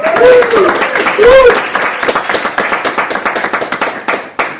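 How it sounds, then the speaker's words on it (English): Audience applause for a speaker at a talk, with a voice over the opening clapping that then thins into distinct, close individual claps near the end. "let's give her a big whooping round of applause"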